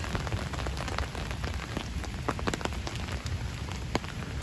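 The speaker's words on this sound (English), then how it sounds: "very rainy day due to the hurricane" Heavy rain from Hurricane Henri pours down in Central Park, New York City, making a dense, continuous patter with sharper nearby drops ticking through it, close and steady throughout.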